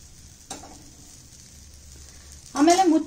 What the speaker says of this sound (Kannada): ಸೊ ಇವಾಗ ಒಂಚೂರು ಎಣ್ಣೆ ಹಾಕುವ ಸೈಡಿಗೆ